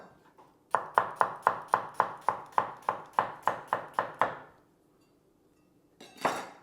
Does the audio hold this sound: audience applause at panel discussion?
no